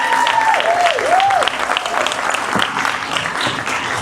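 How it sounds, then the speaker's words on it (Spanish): An audience at a live talk event gives loud, sustained applause for a speaker, with cheering and a whistling voice rising and falling over the dense clapping. "Fuertísimo el aplauso para Álvaro Martínez"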